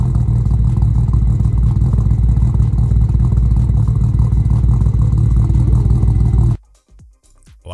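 A Nissan Skyline R32 GT-R revs hard and close for about six seconds, a loud, gritty, pulsing engine roar that cuts off abruptly into near silence with a few faint knocks.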